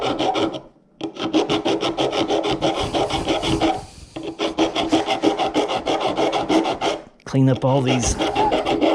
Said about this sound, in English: We're gonna do some filing and some finishing touches.